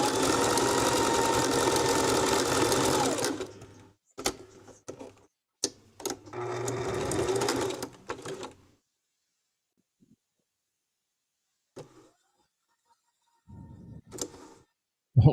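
A sewing machine runs a zigzag stitch across white and black fabric: a steady mechanical whir for a few seconds, then several short stop-start bursts separated by silence.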